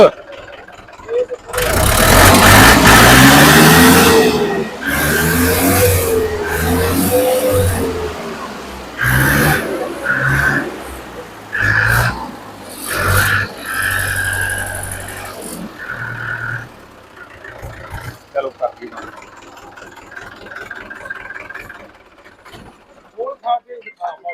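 A 2010-model Mahindra 575 DI tractor engine revs hard and loud, its pitch rising and falling in repeated bursts before dropping back toward idle, with voices talking over it.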